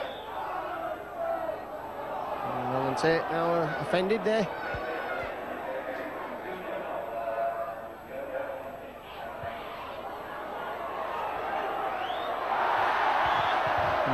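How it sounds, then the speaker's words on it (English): Crowd at a 1992 Yorkshire Cup rugby league match between Leeds and Hunslet cheers steadily in the background, swelling toward the end, while a commentator talks over it. "with the cheers that are coming from the crowd"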